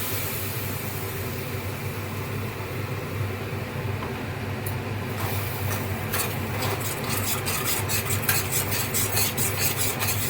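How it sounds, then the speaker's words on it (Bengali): A paste of cashew, poppy seed and sesame is stirred into hot oil while cooking a vegetarian potato dum, making a continuous soft scraping and rasping in the pan, growing slightly busier with quick scratchy strokes toward the end. "এবার এটাতে আমি কাজু বাদাম পোস্ত আর তিলের পেস্টটা"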